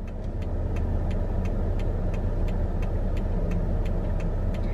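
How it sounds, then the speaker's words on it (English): Steady engine rumble of idling cars in slow, heavy traffic outside a Starbucks drive-thru, a continuous close low drone with a faint regular ticking over it. "There's so much traffic."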